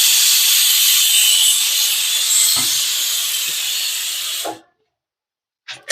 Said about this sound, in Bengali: তো আমি এখানে তেল দেব না, শুকনো এইভাবেই আমি কাঠখোলাতে আমি ভেজে নেব।